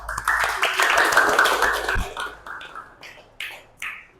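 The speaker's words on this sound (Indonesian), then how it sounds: "Tapi tepuk tangan buat semuanya." A classroom applauds everyone, a dense burst of clapping for about two seconds, then scattered, fading claps and taps near the end.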